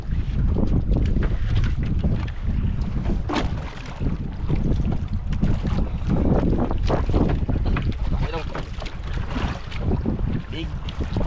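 A small boat pitching on rough water in strong wind, with constant heavy wind buffeting the microphone and splashing water throughout, loud and close.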